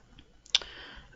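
A computer mouse double-clicks while setting up the PowerSaves Action Replay for a 3DS: one sharp, close click followed quickly by a softer second one, over a quiet background.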